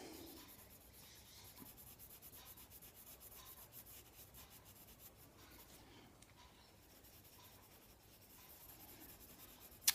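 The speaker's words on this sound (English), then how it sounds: "if you can tell by my pencil layers, it's the pencil's finding it quite hard to get into the paper" A pencil rubs steadily across ordinary printer paper while colouring, making continuous soft scratchy strokes that are close and fairly quiet, with no talking.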